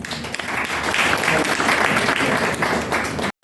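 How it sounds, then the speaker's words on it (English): A crowd claps in sustained, dense applause to welcome a guest speaker at a business session, loud and steady for about three seconds before cutting off abruptly. "let's welcome him with a huge round of applause"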